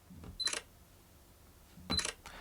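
Sony ZV-E1 camera firing shots by touch shutter: two crisp electronic shutter clicks about a second and a half apart, close and clear against a quiet room.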